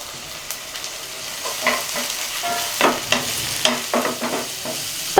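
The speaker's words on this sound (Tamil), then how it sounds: "வெங்காயம் லைட்டாக வதங்கினதும் இதில் இஞ்சி பூண்டு பச்சை மிளகா இடித்த விழுதை சேர்த்துக்கலாம்." Ginger, garlic and green chilli paste frying with onions in a pan, a soft steady sizzle broken by repeated scraping stirs, close and moderately loud, no talk.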